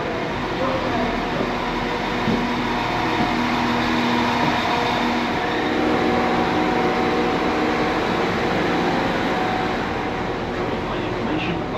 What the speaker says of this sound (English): here's our first train from Sheffield to Leeds